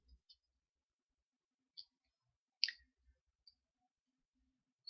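A computer mouse clicks a few times during ZBrush modeling work. The clicks are faint, sharp and isolated, spaced irregularly over a very quiet background.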